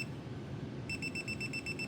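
16-line self-leveling green beam laser level beeping as its laser intensity is adjusted, a rapid series of high electronic pips starting partway through over faint background noise.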